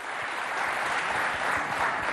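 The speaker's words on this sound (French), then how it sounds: "Est-ce qu'on peut l'applaudir bien fort?" An audience at a school event in Chad claps for a vaccination communications officer, giving a brief, dense, steady burst of applause with no talking.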